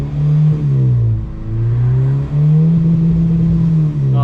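Supercharged Acura RSX engine with a Kraftwerks kit held on a two-step launch limiter around 4,000 to 5,000 RPM, a loud steady burbling drone close by, with slight rhythmic dips as the limiter cuts, no talking.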